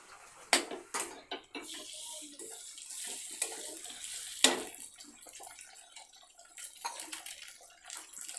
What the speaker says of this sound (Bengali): আদা রসুনটা ভালো করে আমি কষে নেব পেঁয়াজগুলো দিয়ে